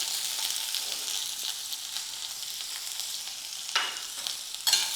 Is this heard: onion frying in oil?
yes